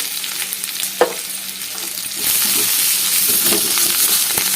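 Onions and green chillies frying in oil with curry leaves, turmeric and asafoetida, a sharp clack of a utensil, then a louder steady sizzle with occasional stirring scrapes, close by.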